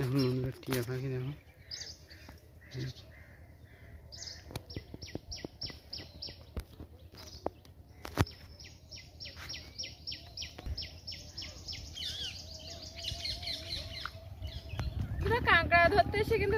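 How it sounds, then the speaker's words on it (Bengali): Parrot calls in the Sundarbans mangrove forest: bursts of sharp, repeated chirps and squawks, some near and loud, mixed with clattering knocks and rustling, and someone speaking at the start. "দেখুন বন্ধুরা টিয়া পাখি দেখুন।"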